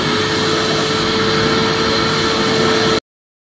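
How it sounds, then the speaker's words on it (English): A vacuum cleaner runs at a steady, loud drone with a constant whining tone and broad hiss, close and unchanging for three seconds before cutting off. "It's vacuuming."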